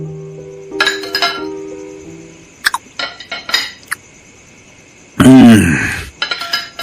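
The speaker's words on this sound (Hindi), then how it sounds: "अपने होटल रूम में बैठे लजीज खाने का मजा ले रहे थे।" A man eats a delicious meal in a hotel room, with cutlery clinking against plates and dishes in a scattered run of sharp, close clinks. A short voiced murmur of enjoyment cuts in near the end, followed by a few more clinks.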